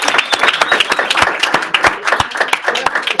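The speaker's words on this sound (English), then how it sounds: "One more big round of applause to Jeff" Conference audience claps for a speaker, a medium-sized crowd whose individual sharp hand claps stand out clearly, close and lively, sustained throughout.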